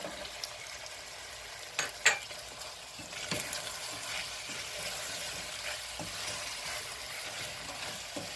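Mushrooms and a medium carrot sauté together in a pan with a steady sizzle, a couple of sharp utensil clinks early on and light scraping strokes throughout, with no voices.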